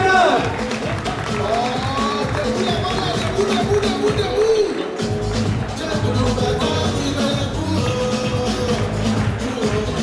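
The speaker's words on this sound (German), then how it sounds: "Begrüßen wir im Ring mit herzlichem Applaus vom Barney Gym aus Köln" An audience claps and cheers steadily to welcome fighters into the ring at a martial arts bout in Cologne, with a loud announcer's voice over the dense, continuous applause.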